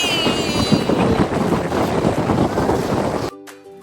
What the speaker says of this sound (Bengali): সমুদ্রের আওয়াজটা শুনতে পাচ্ছেন প্রচণ্ড হাওয়া